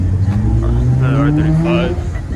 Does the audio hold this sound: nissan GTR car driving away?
yes